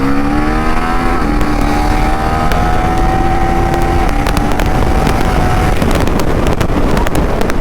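A Husqvarna Svartpilen 401 motorcycle engine running steadily while riding, with rising and falling revs, close and loud, with wind rushing over the microphone throughout.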